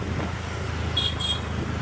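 Busy city traffic in Vadodara rumbles past with a constant roar of engines, and a short horn toot or two cuts through midway.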